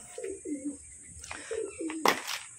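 Pigeons cooing close by in a short run of soft, low, repeated coos, with a brief sharp flutter or knock partway through.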